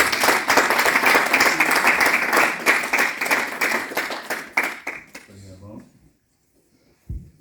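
Audience applause at a church gathering, dense rapid clapping that builds and then thins out into scattered claps before fading to near silence, with a voice heard briefly.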